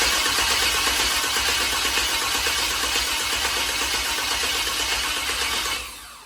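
An old dually truck's engine cranks over steadily with a rapid, even starter rhythm, loud and close, for about six seconds before dropping off at the end.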